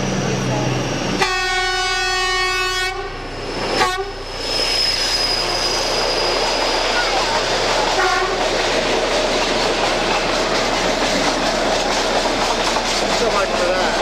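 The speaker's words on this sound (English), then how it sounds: "The train coming down here." A narrow gauge mountain train sounds a long horn blast, then a short second toot, before rolling past with a steady rumble and rhythmic clatter of wheels on the track, loud and close throughout.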